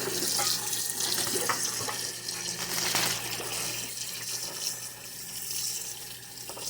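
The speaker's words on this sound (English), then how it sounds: "I'm just going to toss this in some cold water." Cold tap water runs steadily into a sink, splashing over noodles in a strainer, close by and moderately loud, with no talking.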